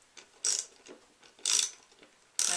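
Ratchet wrench tightening the tuners on a homemade cigar box guitar, three sharp clicking bursts about a second apart, close and clear with quiet pauses between.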